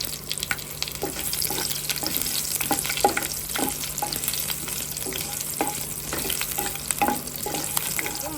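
Curry leaves and thinly sliced green chillies fry in oil in a pan, a soft continuous sizzle broken by scattered crackles and the clink and scrape of stirring, fairly quiet and without voices.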